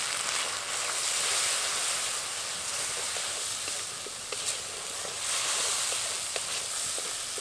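Ground cumin, coriander, chilli and turmeric sizzling in a pan for a Bengali chhanar korma, a steady bright hiss with small crackles, close and continuous, with no talking.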